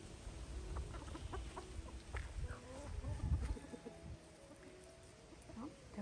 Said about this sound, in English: Those are the chickens. Well, that's a rooster.